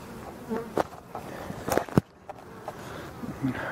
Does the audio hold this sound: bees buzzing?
yes